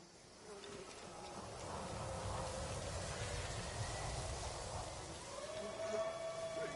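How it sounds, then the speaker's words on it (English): Angry bees buzz in a dense, continuous swarm in the game Ghost of Tsushima, starting slightly softer and swelling to a steady close drone. "Angry bees may be a help."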